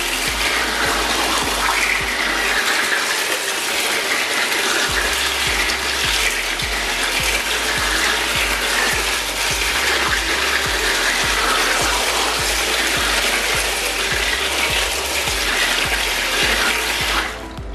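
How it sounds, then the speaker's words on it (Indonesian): A power drill with a brush bit grinds steadily against aquascape hardscape rock sitting in a tray of water, a continuous close whirring and splashing churn that barely changes over its full length. "baru kita bor"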